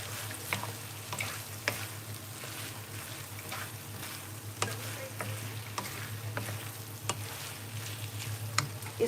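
Fried soybeans being stirred through masala pasta in a pan, a steady low sizzle with scattered soft scrapes and taps of the spoon, fairly close and continuous, no talking.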